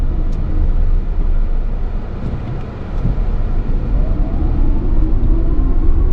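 A 2024 Chevrolet Equinox EV LT pulls away under acceleration, heard from inside the cabin. A steady rumble of road and wind noise carries a faint rising electric whine.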